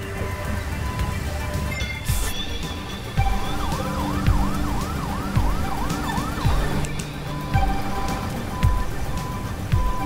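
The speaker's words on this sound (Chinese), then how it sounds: "我们的救护车，我们的消防车开出去好了" Wailing ambulance and fire engine sirens from the firefighting game Fire Commander rise and fall in a steady cycle over a busy bed of game noise and engine rumble, with occasional clicks and bursts around them.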